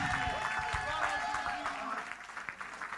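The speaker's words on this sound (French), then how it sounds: "Acclame ton Dieu plus fort." A church congregation claps and cheers in praise during a worship service, loud crowd noise with shouting voices that eases off toward the end.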